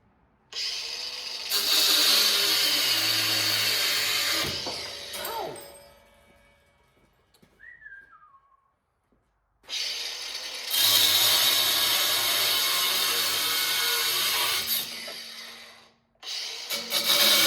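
Loud power-tool cutting of metal pieces clamped in a vise, two long sustained grinding passes with a quiet pause between, ending as the blade spins down.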